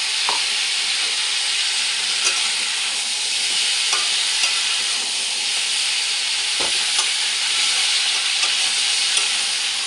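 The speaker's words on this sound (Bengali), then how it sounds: "এটাকে আমি এইভাবে ভাজা ভাজা করে নেব" Mixed vegetables (radish, papaya, drumstick, pointed gourd) frying in a pan give a steady loud sizzle, with occasional scraping stirs close by, continuous throughout with no talk.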